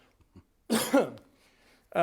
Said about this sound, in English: excuse me for a second, I'm just going to cough.